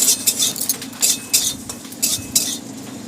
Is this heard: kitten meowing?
no